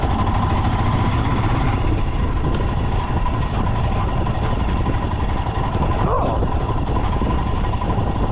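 A motorcycle engine runs at low throttle in second gear, a steady close rumble with a continuous hum sustained throughout, with no talking.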